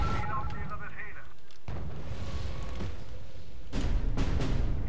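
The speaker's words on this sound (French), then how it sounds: "Monsieur, l'artillerie russe nous tire dessus." Russian artillery fire in R.U.S.E.: heavy booming blasts and rumbling explosions fill the scene, loud and continuous, with a voice speaking over the barrage.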